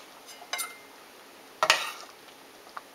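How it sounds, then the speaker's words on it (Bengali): A ladle stirs fried mung dal in a pot, giving two brief scraping clinks of metal against the vessel over a faint, quiet background hiss. "এবার হাতার সাহায্যে খুব ভালো করে মিশিয়ে নিচ্ছি ডালটা"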